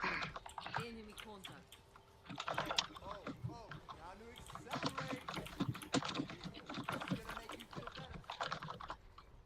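Loud mechanical computer keyboard clacking in quick irregular bursts during a team game session, with several voices talking over it throughout.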